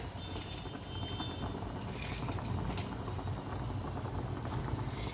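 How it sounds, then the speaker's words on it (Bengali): Boneless chicken thigh pieces simmering in salted water, a dense steady bubbling and rumble that fills the whole stretch at even loudness, with no voices. "চিকেনটা একটু বয়েল করে নিচ্ছি এটা বোনলেস চিকেন আছে"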